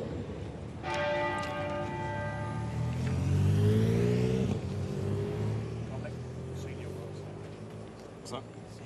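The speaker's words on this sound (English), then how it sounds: "The tenor bell of Westminster Abbey has been tolling every minute and will do so 96 times." The tenor bell of Westminster Abbey tolls at the state funeral of Queen Elizabeth II, a long resonant bell strike with rich humming overtones that swell and slowly decay under steady broadcast background noise.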